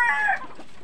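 A bantam chicken gives a single short, close cluck-like call during feeding, fading quickly into quiet.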